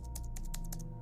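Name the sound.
keypad typing of a password in the video game Fort Solis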